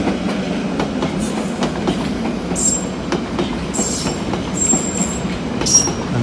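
A London Underground Piccadilly line train rumbles past nearby with rhythmic clickety-clack and brief high wheel squeals, loud and steady throughout.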